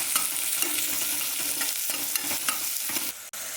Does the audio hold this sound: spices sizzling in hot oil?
yes